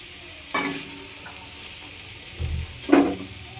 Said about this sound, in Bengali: আলু ভাজা হয়ে যাচ্ছে, এটা এখন ভেজে নিচ্ছি।